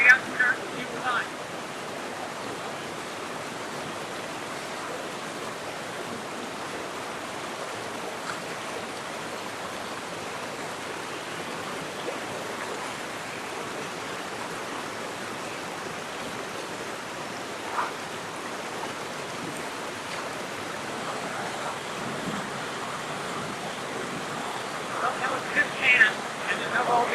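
River water rushes over rocks near an abandoned gold mine in Colombia, a steady broad close hiss of flowing water throughout, with faint talk near the end.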